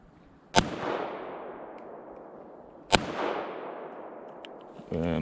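Two sharp, loud shots from a Kel Tec CP33 .22LR pistol fired outdoors, spaced about two seconds apart, each followed by a lingering echo, with no talking.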